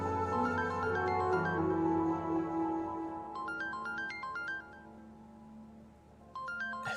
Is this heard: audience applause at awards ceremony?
no